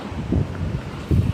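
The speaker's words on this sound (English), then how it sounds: "So it's really windy out." Strong gusting wind from Hurricane Helene, with rain, buffeting close to the microphone in low rumbling surges that swell near the end.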